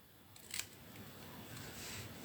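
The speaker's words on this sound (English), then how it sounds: "Cut down the middle and then cut from the corner" Snips cutting through card, a few quiet crisp snips, close and faint in an otherwise quiet room.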